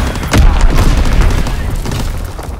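An enemy bomb detonates in Call of Duty: WW2 multiplayer, a loud, close, booming explosion with a deep rumble that slowly decays, with brief speech-like sounds nearby.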